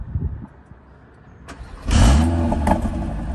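An Audi RSQ3 engine starts after a quiet moment, cranking briefly and then catching with a loud, low rumble that settles into a strong, steady idle close by.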